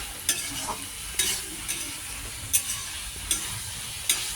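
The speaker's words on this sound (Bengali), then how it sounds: "এবার কষাবো, মশলাপাতি সব দিয়ে দিয়ে পুরো মাংসের মতো করে রান্না হবে।" Soybean chunks and fried potato are stir-fried with spices in a pan, a soft continuous sizzle broken by several sharp scraping strokes of a spatula at irregular intervals, close and alone without any talk.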